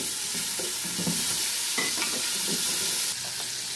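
Bacon frying in a pan, a loud continuous sizzle close up with soft scraping and stirring knocks running through it.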